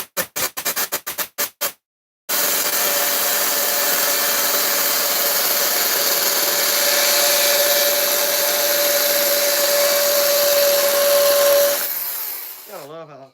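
An electric chainsaw carves a wooden horse head, starting after a few short revving bursts into a long, steady, loud cutting whine that rises slightly in pitch, then cuts off abruptly.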